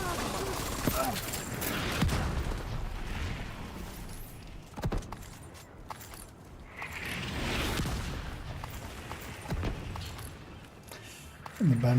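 An explosion of a Warhound drone during a firefight in the shooter video game The Division, with bursts of gunfire and booms rising and falling over about twelve seconds, a louder burst at the end.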